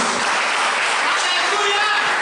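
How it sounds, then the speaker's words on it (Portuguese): A church congregation applauds, a dense, roaring wash of clapping mixed with crowd noise, loud and unbroken, with voices blended into it. "Você pode aplaudir ao Senhor por isso."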